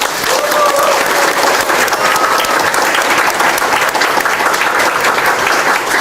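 Audience at a political party members' meeting in a Daejeon cultural hall giving loud, sustained applause, dense clapping that fills the room evenly for the full six seconds.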